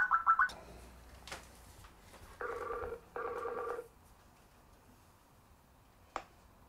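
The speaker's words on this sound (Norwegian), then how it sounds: "Sånn, da ringer han." A Skype call rings out with a few short tones, then longer two-part ringing bursts, a click near the end and quiet between the rings.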